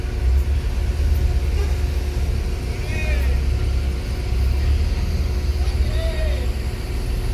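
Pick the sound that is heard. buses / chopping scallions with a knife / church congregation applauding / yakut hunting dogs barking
buses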